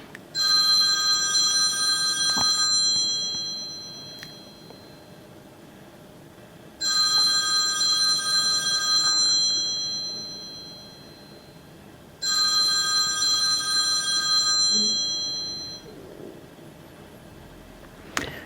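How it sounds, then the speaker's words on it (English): A home telephone rings in three long, loud electronic bursts separated by quiet pauses, clear and close with no voices. "the phone is ringing"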